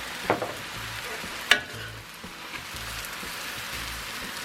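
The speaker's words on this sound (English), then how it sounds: "stir fry that rice along with those veggies" Rice and vegetables stir-fry in a hot pan for bacon gochujang fried rice, a continuous sizzle broken by a couple of sharp utensil scrapes and clacks near the start, with no voices.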